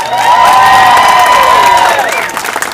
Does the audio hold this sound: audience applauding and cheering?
yes